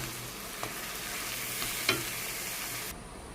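Soaked, washed Gobindobhog rice, about 200 grams, fries in a pan with a steady sizzle. A few sharp scraping clicks of stirring stand out before the hiss drops off at the end, with no voices.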